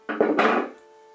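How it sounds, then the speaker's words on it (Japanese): Garden scissors snip a notch partway into a rose of Sharon branch for a Japanese ikebana arrangement, giving two or three quick close woody crunches in under a second before fading to quiet. "これでまずハサミで切れ目を入れると"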